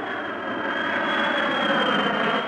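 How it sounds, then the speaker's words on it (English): A 1970s jet airliner with untreated, non-acoustically-lined engines passes overhead, a loud, steady broadband roar with a sharp high whine running through it, sustained throughout without any voices. "Listen to the difference as first the plane with the untreated engines flies over."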